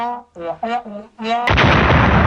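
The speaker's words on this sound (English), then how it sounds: "An animated explosion!" A voice speaks briefly, then a sudden loud burst of roaring noise, like a cartoon explosion, erupts and holds steady until the end.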